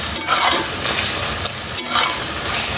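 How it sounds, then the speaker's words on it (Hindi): Masala sizzling and being stirred in ghee for a bhindi (okra) dish, with steady frying crackle and periodic scraping strokes of a spoon across the pot, no talking. "ये हमने बहुत अच्छे तरीके से इसकी भुनाई कर ली है मसाले की"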